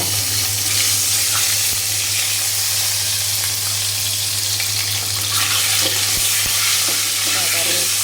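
Eggs frying in hot oil seasoned with a little turmeric give a loud, steady broadband sizzle with a low hum underneath, plus a few sharp clicks near the end.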